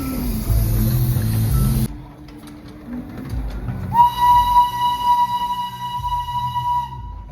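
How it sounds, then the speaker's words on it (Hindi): A Darjeeling toy train passes on the roadside, its rumble and rolling noise loud at first, then a long steady whistle or horn blast sounding nearby before fading. "हमें यहीं से टॉय ट्रेन दिख गई"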